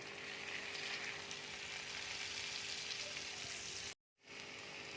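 Chopped onion and garlic fry in melted butter in a pan for garlic butter mushrooms, giving a steady, close, even sizzle with a faint crackle. The sizzle cuts out briefly for a moment near the end, then resumes.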